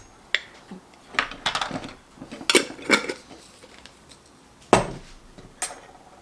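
A spoon stirring beet crystals into juice, with sharp scattered clinks and taps against the container, several quick bursts and a few louder isolated knocks in an otherwise quiet setting.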